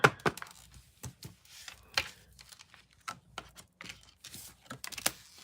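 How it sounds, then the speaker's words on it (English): Tarot cards are shuffled by hand in quick, irregular bursts of soft slaps and riffling taps, close to the microphone in an otherwise quiet room. "One full shuffle."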